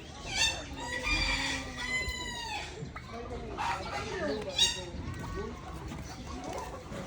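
Repeated loud, harmonic turkey gobbling calls, close by, with people talking over and between them.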